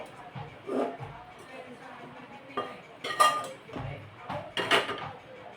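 Utensils scrape and clink against a greased tray as a ripe-banana sweet mixture is pressed and spread evenly; several short bright taps and scrapes come close and moderately loud, with brief speech between them.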